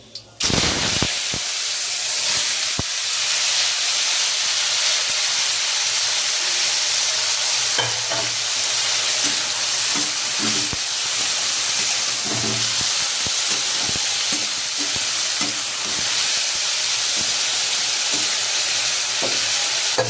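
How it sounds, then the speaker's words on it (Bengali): Potatoes frying in a pan with black cumin seeds, a loud, steady sizzle and hiss running throughout with occasional stirring scrapes and clatters. "এবার কিন্তু আলুটা ভেজে নেবো, তাই কিন্তু আলুটা দিয়ে দিচ্ছি।"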